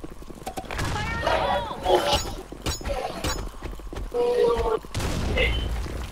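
A grenade explosion in a competitive multiplayer shooter: bursts of gunfire and booms crowd the game mix while players talk excitedly over it.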